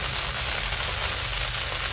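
Butter sizzling and frying in a pan on the stove while pikelets are being made, a steady, dense crackling hiss that holds at an even level throughout with no talking.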